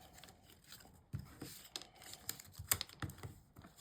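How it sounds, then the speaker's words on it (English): Scored paper tabs of Graphic 45 craft paper being folded for a treat box, faint close crisp creases and soft taps in an irregular sequence of several small clicks and rustles. "And I'm going to fold these 4 in as well."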